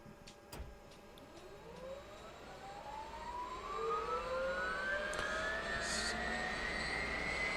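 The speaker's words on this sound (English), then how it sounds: "I want you to hear the wonderful sounds of the helicopter starting up." A Huey helicopter in Microsoft Flight Simulator 2024 winds up from a start, its turbine whine rising steadily in pitch and growing louder over several seconds, with a few faint clicks early on and no voices.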